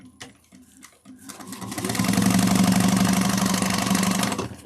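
Sewing machine stitching card slots for a train case: a few faint clicks, then a loud, close, steady mechanical whirr that runs for several seconds and eases off at the end, with no talking.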